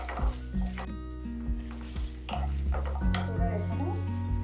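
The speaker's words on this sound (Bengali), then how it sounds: "এটা ভালো করে ভাজবো।" Whole cinnamon, cardamom and peppercorns frying in a pan for Bengali curd fish, a moderate sizzle with metal stirring clinks and scrapes, while a strong tonal hum runs underneath.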